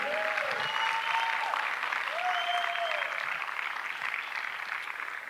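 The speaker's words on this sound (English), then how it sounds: "let's give them a good round of applause so we can give them some encouragement" Audience applause at a youth fashion show in Port Richey, Florida, a steady wash of clapping throughout, with a few faint whistles or cheers over it.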